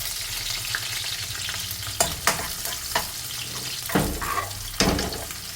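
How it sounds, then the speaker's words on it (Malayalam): Small onions frying in hot oil for a bitter gourd gravy, a loud continuous crackling sizzle close by, punctuated by several sharp spoon knocks and scrapes against the pan. "ഇനി അതിലേക്ക് ആ ഓയിലിലേക്ക് നമുക്ക് കുറച്ച് ചെറിയ ഉള്ളി ഇട്ട് വെക്കാം."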